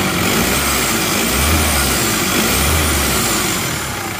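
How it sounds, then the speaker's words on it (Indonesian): Diesel engine of a Panther LS automatic car idling smoothly and steadily up close, a constant even rumble with no talking. "Tidak bergetar, mesinnya rata banget."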